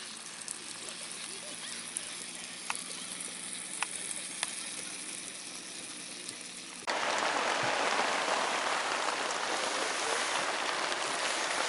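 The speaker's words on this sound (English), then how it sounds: "we're having a little bit of a drizzle at the moment." Light drizzle patters steadily at an outdoor summer camping meet in the UK, a continuous fine hiss with a few sharper drop ticks, growing noticeably heavier partway through.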